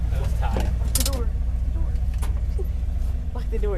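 Inside a 1968 Ford F250 pickup, a door lock clicks with a couple of short metallic clacks over a steady low engine idle, and a faint voice is heard near the end.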